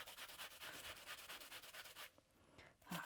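An onion being rubbed back and forth on a small hand grater, giving steady rhythmic scraping strokes up close for about two seconds before a brief pause and a louder final knock.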